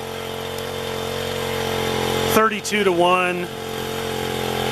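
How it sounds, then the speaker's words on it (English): A model aircraft two-stroke engine on a Corsair, still breaking in on avgas with Castrol 2T mineral oil and turning a Zor 2410 propeller, drones with a steady, close, buzzing whine. A voice briefly cuts in partway through. "I'm running a Zor 2410 propeller, and engine's only got about a gallon through it, so it's still breaking in."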